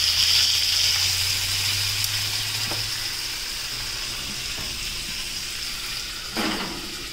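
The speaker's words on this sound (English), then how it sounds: "You can hear the chicken sizzle." Chicken frying in a pan in a home kitchen, a steady broadband sizzle running throughout at moderate level, with a low hum early on and a brief clatter near the end; no talking.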